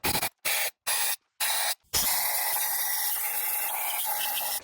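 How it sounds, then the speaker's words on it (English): An air compressor nozzle blows debris out of a car engine while race coil packs are installed, starting with four loud, sharp hissing blasts, then one long, close, steady rush of air. "Air compressor is totally what we needed."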